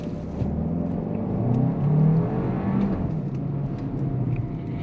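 A 2024 Hyundai Kona N Line accelerating, a low engine hum and road rumble that swells in pitch and loudness midway then settles, heard from inside the car with no talk.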